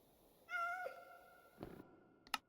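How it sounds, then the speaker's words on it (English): A plain cat meows in a video game, a clear tonal meow with harmonics, followed by brief game clicks and a short electronic blip, no talking. "I think it's just a normal cat."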